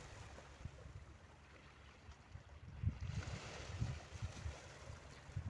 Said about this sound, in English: And we've got the waves just lapping at the rocks.